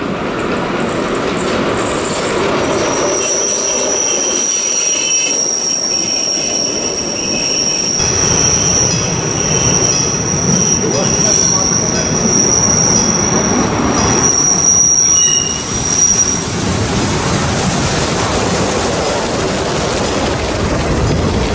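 Steam locomotive 23 058 on a special excursion run in the Achertal, rolling into the steeply graded Ottenhöfen station. A loud, steady rumble of wheels and cars runs throughout, with a sustained high-pitched wheel squeal. No one speaks.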